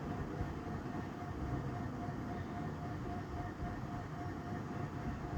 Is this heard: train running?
yes